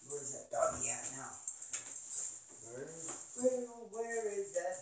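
A dog whimpers and whines nearby in a close run of high, wavering cries with short yips mixed in.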